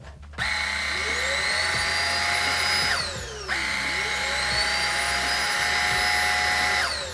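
Aspiron 20Kpa cordless vacuum cleaner motor whirring in two bursts, each spinning up to a high steady whine and winding down, close and alone.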